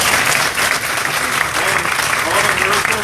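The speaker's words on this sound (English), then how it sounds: "Give yourself an applause, doctors, please." Crowd applause for doctors at a hospital groundbreaking and name-change ceremony for a West Virginia health system, loud, continuous clapping with voices mixed in.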